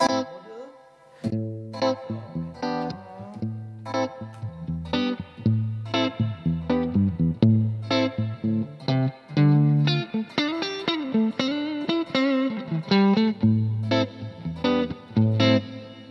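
Electric guitar through a high-quality plate reverb effect plays a melodic riff of picked single notes and short chords, clear and up close, each note trailing a smooth reverb tail, with no talking.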